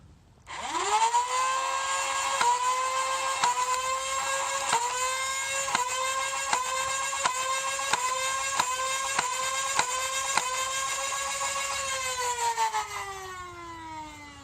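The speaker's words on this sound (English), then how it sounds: "this will be me firing my King of Spades with X-shot darts" A King of Spades foam-dart blaster loaded with X-Shot darts spins up with a rising motor whine, then fires about a dozen darts in a quick, regular series of sharp clicks over the sustained hum before spinning down.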